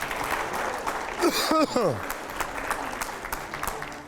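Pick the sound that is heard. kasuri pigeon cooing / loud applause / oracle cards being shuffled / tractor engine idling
loud applause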